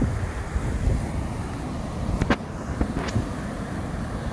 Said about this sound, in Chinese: 但是今天的浪花其实有点大，哦，浪花很大，打过来